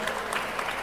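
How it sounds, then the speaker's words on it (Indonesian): Audience applause for Alissa Wahid at a commemorative event, a short dense burst of clapping. "tepuk tangan untuk Ibu Alisa Wahid"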